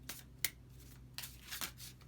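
Tarot cards being shuffled by hand, giving soft papery riffles and a few sharp snaps spaced irregularly, close and quiet.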